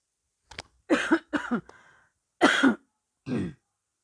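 A hoarse woman gives a few dry coughs and throat clearings in short bursts, close and fairly loud, with pauses between them and no talking.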